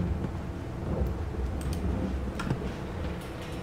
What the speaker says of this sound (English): And it's raining in the shed.